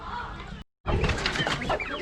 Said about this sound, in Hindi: ये भी मुर्गियाँ हैं, वहाँ भी मुर्गियाँ हैं। ये देसी मुर्गियाँ हैं माशाल्लाह।